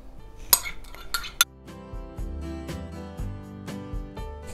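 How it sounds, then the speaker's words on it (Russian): A few sharp clinks of a utensil against a bowl as young cabbage salad with soy sauce and sesame seeds is mixed and dressed, over steady tonal background sound. "Все это дело помешать и заправляем."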